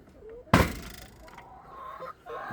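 Backyard chickens close to laying age cluck and call inside a coop, with one sharp, loud squawk early on, then softer clucks and chatter over steady barnyard noise.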